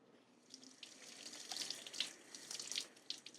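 Water runs from a tap over flank steak, a soft, continuous splashing hiss with small fluctuations, faint and alone without talk.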